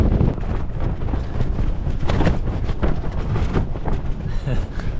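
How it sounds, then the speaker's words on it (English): Strong wind buffets the microphone on an exposed hilltop at Walla Crag in the Lake District, a loud, continuous low rumble and roar with gusting swells, close and unbroken for the whole stretch. "I'm hoping this wind's going to die down in an hour"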